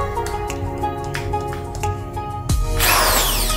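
A car buffing machine, used on a Toyota Vios, switches on after a short stretch of background noise. Its electric motor spins up with a rising whine and then runs steadily and loudly, with no voices.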